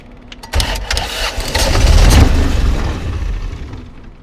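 A flatbed truck's diesel engine in a shop cranks briefly, then catches and roars loudly before settling into a rough, rumbling idle, heard up close with no talk.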